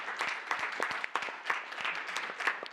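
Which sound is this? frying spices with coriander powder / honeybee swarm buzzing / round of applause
round of applause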